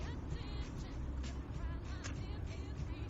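A car drives along a road at night, a steady low rumble of engine and tire noise heard from inside, under faint background sounds with no clear speech.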